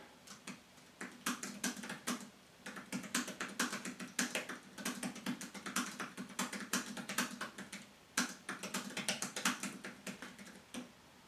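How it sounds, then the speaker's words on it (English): Steady, rapid touch typing on a Surface Pro Type Cover keyboard, soft tapping keystrokes in quick bursts with brief pauses, close and fairly quiet. "going to try touch typing here for speed and accuracy"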